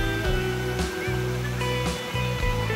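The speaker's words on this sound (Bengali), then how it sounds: "থুরগা ফলসের জলরাশি ওপর থেকে নেমে আসছে।" Water of Thurga Falls in Purulia pouring down over rocks, a loud, steady close rush with a faint droning hum and light tonal sounds mixed in.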